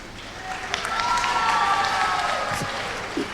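An audience at a Tamil public speech applauds steadily, a dense wash of clapping and some cheering that holds loud for a few seconds and then eases off.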